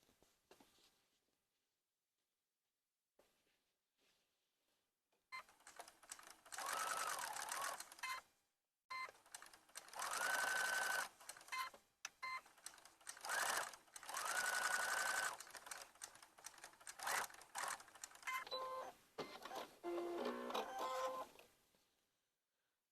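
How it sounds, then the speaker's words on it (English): A sewing machine stitches binding around a fabric Easter basket, running in several loud bursts of rapid whirring separated by short pauses, close and alone. "And now you can finish sewing that all the way around."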